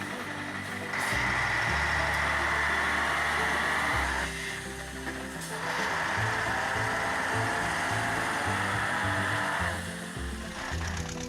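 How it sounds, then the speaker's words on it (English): A tractor engine drones steadily and loudly while the machine drives into a muddy stream, with a constant low rumble and a sustained midrange roar shifting slightly over several seconds, with no talking. "the tractor plunged straight into the muddy stream"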